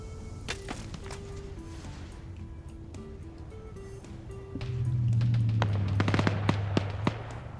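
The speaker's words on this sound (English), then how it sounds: "Because I am hearing rounds coming in." Gunfire in a military video game match, a PvP battle between US and China teams: scattered sharp cracks and ticks of incoming rounds, some clustered in quick bursts, over a steady low rumble that swells midway.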